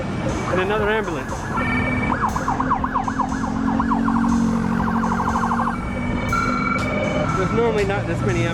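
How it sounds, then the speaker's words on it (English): An ambulance siren wails loudly nearby on a Bangkok street, sweeping up and down in repeated cycles, over traffic noise and a few voices. "And another ambulance."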